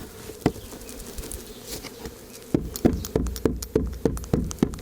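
Honeybees buzz close by during a wild hive cut-out, a steady insect drone overlaid with a series of rhythmic thumps as the bees are shaken into a box.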